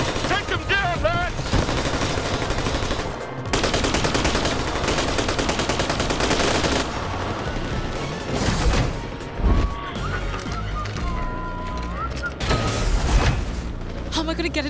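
A firefight in the video game New Tales from the Borderlands brings dense, continuous rapid gunfire and bursts with crashes and booms, mixed with shouting voices and game music.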